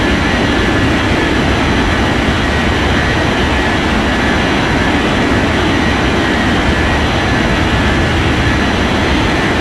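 A jet airliner takes off in an air traffic control video game, producing a steady, loud broadband engine roar that stays constant throughout, with no talk over it.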